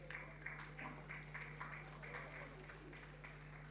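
Audience applause at a certification and recognition ceremony for promoting gender equality, steady scattered hand clapping from a seated crowd, moderately faint and continuous throughout with a constant low hum beneath.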